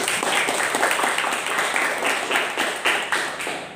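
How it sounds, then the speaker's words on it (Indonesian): A classroom of students clapping together in steady, rhythmic bursts, a dense, fairly loud patter of many hands that keeps going at an even pace throughout. "Oke, kasih tepuk tangan buat Anda dulu."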